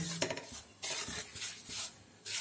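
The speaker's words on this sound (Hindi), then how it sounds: "गैस की आंच को तेज करेंगे और सूजी को भूनेंगे ब्राउन होने तक" Semolina roasting in a pan over a gas flame while a spoon stirs it, faint scraping and light clinks against the pan with a soft sizzle, in short repeated strokes.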